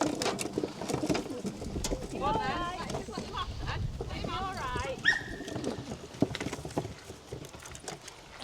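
Racing pigeons coo and warble in a loft, several soft rolling calls overlapping, with shuffling and a brief higher chirp amid steady background noise.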